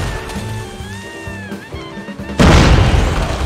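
Claw's ultimate skill fires in a mobile shooter game with a sudden loud booming blast that cuts in partway through, following a stretch of game music and effects.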